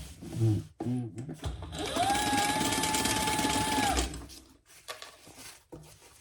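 A sewing machine stitching down the sides of a crossbody bag runs in one steady burst of about two seconds with a rising then level whine, framed by brief handling noises and short pauses before and after.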